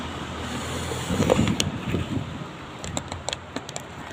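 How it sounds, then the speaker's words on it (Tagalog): Strong wind buffeting the microphone in a steady low roar, with a few scattered clicks and knocks nearby. "Lakas ng hangin kasi."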